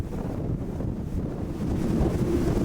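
Strong wind buffets the microphone on a Japanese island, a steady low rumbling roar that swells slightly toward the end, with no voices heard.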